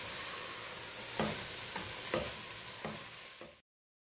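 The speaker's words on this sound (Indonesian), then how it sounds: "Kita aduk. Biarkan sampai air tomatnya menyusut ya." Macaroni with ground beef and tomato gets stirred in a frying pan, a steady sizzle broken by several distinct scraping strokes of the spoon, close and fairly quiet, with no voices.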